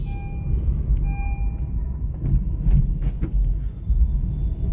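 A 2017 Honda City petrol i-VTEC V automatic CVT rolls over a speed breaker, giving low road rumble with a couple of soft suspension thumps and knocks inside the cabin.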